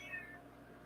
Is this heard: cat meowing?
yes